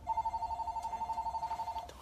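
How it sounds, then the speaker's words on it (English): Telephone ringing in a rapid pulsing electronic trill that runs steadily for about two seconds, moderately loud over quiet room noise. "Phone ringing."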